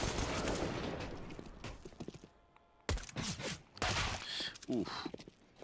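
AK rifle fire in a Counter-Strike esports match: sharp bursts and single shots crack out, with a gap near the middle, while a caster talks excitedly over the action.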